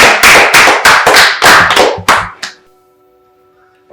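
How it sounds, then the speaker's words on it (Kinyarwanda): Several loud, sharp claps in an uneven burst of about eight strikes over two and a half seconds, then stopping abruptly into near silence with a faint tone, like a small group clapping briefly on cue. "maze mumpere papa amashyi"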